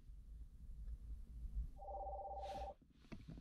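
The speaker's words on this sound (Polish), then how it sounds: "mamy informację o połączeniu przychodzącym na nasz telefon" An incoming phone call alert played through a car FM transmitter: a faint steady electronic ring tone over low road hum, followed by a brief fainter chirp.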